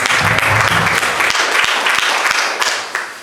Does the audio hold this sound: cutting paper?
no